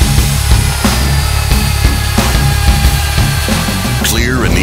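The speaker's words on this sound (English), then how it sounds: "ECO 30 magnetic drilling machine" A Euroboor ECO.30 magnetic drilling machine runs with a steady mechanical whine, punctuated by regular knocks and clicks, close and loud, ending with a rising squeal.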